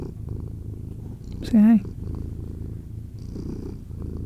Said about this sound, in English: Nice purr.